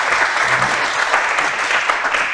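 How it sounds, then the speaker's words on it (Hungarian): An audience claps together at a small entrepreneurs' event, giving steady, dense applause that continues throughout. "Tapsod neki!"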